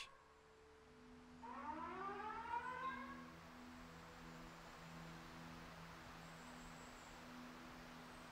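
Rising, wailing alarm siren in the video game Bloodshore, sweeping upward around one and a half seconds in with stacked harmonics, then holding a steady tone over a faint noisy background, no talk.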